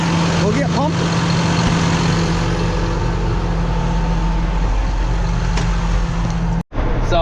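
A farm tanker truck's heavy engine runs at a steady low drone while pumping sand-laden manure, loud and close. A voice speaks over it.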